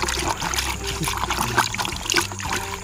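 Crushed pills being stirred into a container of water for treating oil palm bud rot, giving a steady close sloshing trickle with busy splashy churning throughout.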